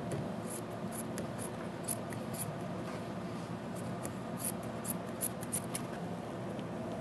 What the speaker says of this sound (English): I'm going to just trim the excess.